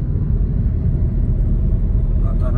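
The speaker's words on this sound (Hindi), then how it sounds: "कार आराम से 60 की स्पीड पे 6th गियर में चल रही है" A car cruises at 60 km/h in sixth gear on city roads. Its engine gives a steady, low, close rumble that holds level with no revving.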